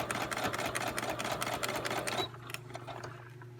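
Sewing machine stitching seam binding fabric with a rapid, even mechanical rattle for about two seconds, then stopping abruptly, leaving faint clicks and room noise.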